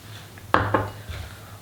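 A utensil knocks and scrapes in a bowl as flour, sugar and salt are stirred together, giving a few short, close clinks and taps with no voices.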